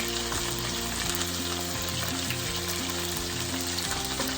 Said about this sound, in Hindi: केयरफुल, तेल बहुत गर्म है तो आराम से आसानी से धीरे धीरे करके हम